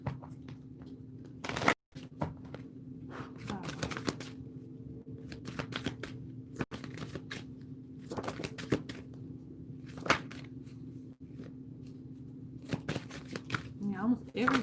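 Tarot cards are shuffled repeatedly, with riffling bursts and soft flicks recurring in a steady rhythm while a voice talks quietly throughout.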